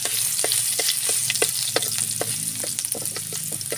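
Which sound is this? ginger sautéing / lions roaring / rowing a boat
ginger sautéing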